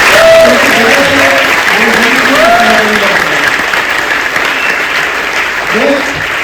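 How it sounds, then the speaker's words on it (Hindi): A large crowd at a motivational program in Delhi claps loudly and continuously for a mentor, a thick wash of applause that holds steady, with voices talking over it throughout. "तो सबसे पहले आशीष सर के लिए एक बार जोरदार ताली होनी चाहिए।"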